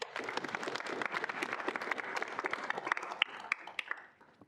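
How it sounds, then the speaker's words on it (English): A small group at a student senate meeting applauds with soft, scattered clapping. It thins out and fades within a few seconds. "Ethan, if we can get a round of applause."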